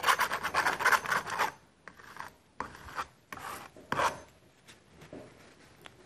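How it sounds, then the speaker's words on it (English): Leftover acrylic paint being scraped off a surface before a pour with DecoArt Satin Enamel: a rapid run of close rasping strokes, then sparser, separated scrapes with quiet gaps between them. "I can just scrape up what's there"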